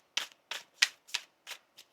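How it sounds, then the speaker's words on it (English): Tarot cards shuffled in a steady series of six crisp, papery riffles about a third of a second apart, close and fairly quiet with no voices. "One more shuffle, please, Anne"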